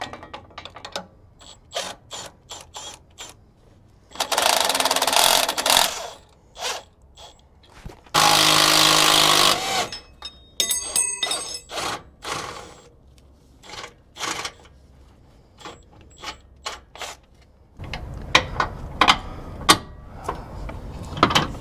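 A control arm bolt is worked off during a Clayton 3.5-inch Overland Plus lift kit install, with rapid ratchet clicking, bursts of loud power-tool whirring and clanks of metal parts, no talk.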